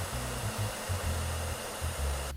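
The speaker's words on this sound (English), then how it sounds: "Once again, we're going to use a blow dryer." A blow dryer blows steady hot air at the bend of a plastic glasses frame temple, a continuous close whoosh with a low motor hum that wavers slightly in pitch.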